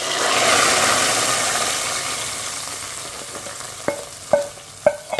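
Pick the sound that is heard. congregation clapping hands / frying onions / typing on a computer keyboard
frying onions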